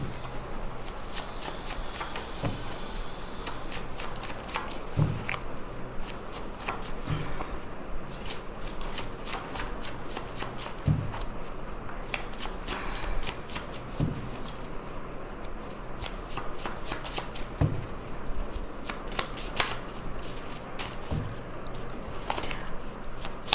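Tarot cards are shuffled by hand close up, repeated crisp riffles and slides in quick bursts over a steady low background, continuing for the whole stretch.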